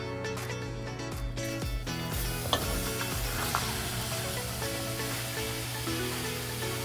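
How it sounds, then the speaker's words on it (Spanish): Sliced onions fry in melted butter in a pan, giving a continuous bright sizzle with occasional scraping and stirring clicks, close and moderately quiet. "calentar un poco de mantequilla, agregar la cebolla que rebanamos"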